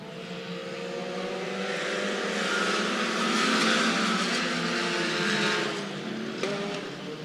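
IMCA Sport Compact race cars accelerate together after the green flag on the Clay County Speedway clay oval, a loud sustained engine roar swelling as the pack passes near, then easing slightly.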